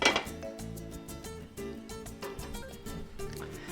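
A lid is set over a pan of refried beans, giving a quick metallic clink at the start, followed by faint cookware rattles under steady background music.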